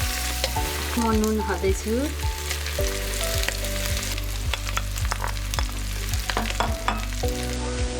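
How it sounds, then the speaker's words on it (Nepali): Mutton pieces frying and sizzling in a pan for mutton curry after onions turned golden brown with turmeric. A loud, steady sizzle with repeated scraping stir strokes, and a voice speaking briefly over it. "अब म मासु हाल्दैछु।"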